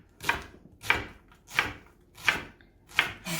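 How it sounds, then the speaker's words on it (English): A Wusthof Nakiri knife chops onions in five evenly spaced, crisp strikes against a cutting board, close and moderately loud, with quiet gaps between each cut. "there's one, almost two onions chopped"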